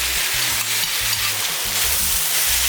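Chicken teriyaki and udon noodles frying with sauce in a pan, a loud continuous sizzle with rhythmic stirring and tossing scrapes repeating through the whole stretch.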